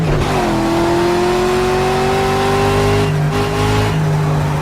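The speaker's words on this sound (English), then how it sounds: "Car sounds really good." A race car engine from the video game Project Cars drones loudly and continuously, its pitch climbing gradually through a long acceleration with a brief dip near the end, and no voices over it.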